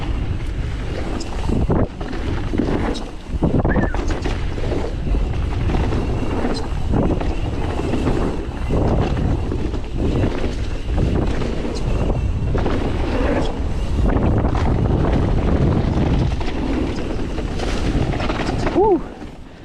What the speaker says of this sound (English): just listen out while I ride as to how smooth the bike is